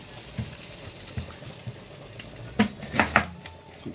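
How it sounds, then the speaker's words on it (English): An onion is chopped with a knife while a fish pie is being made, giving a few sharp close cuts against a board, scattered at first and then clustered near the end. "I will chop an onion"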